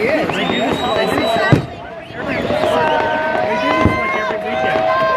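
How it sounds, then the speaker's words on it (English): Fireworks booming over a riverside show the weekend before the Fourth of July, with a couple of sharp bursts standing out against a steady roar of crowd noise and people chatting nearby. "It's quite the fireworks."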